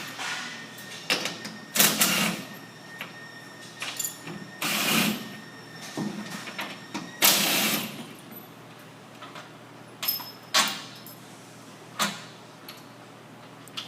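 A power driver backs bolts out of a louver cover in several short whirring bursts separated by pauses, loud and close, with small clicks and clatter between runs.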